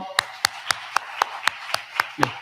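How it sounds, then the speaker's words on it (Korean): A church congregation claps in unison during a Sunday morning service, nine sharp, evenly spaced claps in steady rhythm, close and clear with no talk. "박수하겠습니다."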